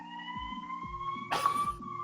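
An ambulance siren wails outside an ambulance station, a steady sustained tone heard from some distance, briefly overlaid by a burst of rushing noise midway.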